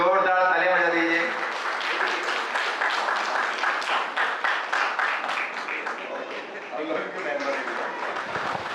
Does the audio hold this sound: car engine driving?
no